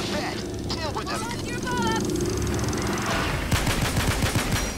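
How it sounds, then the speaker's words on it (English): M1 Garand rifle fired in the video game Payday 2, a burst of repeated, fairly loud shots in the latter half, preceded by game effects and voice-like chatter. "Just gonna unload on him with some Garand while he's burning."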